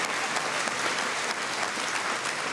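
A dense, steady burst of applause from an audience at a French awards ceremony, many hands clapping evenly and loudly throughout with no pauses.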